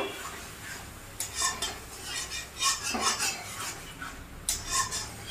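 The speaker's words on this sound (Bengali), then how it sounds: "এবার আমি মশলাটাকে আরেকবার একটু ঘুরিয়ে ঘুরিয়ে দেব" Spice paste for a red sea fish curry, loosened with a little water, is stirred around a pan in several short scraping strokes with a utensil, close and clear, with a faint sizzle underneath.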